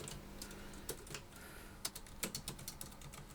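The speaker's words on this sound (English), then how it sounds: "It's going to be weird writing Dear Fiona" Letters are typed on a computer keyboard, with soft, scattered keystrokes at first that quicken into a short burst of clicks near the end, close by and quiet against a faint room hum.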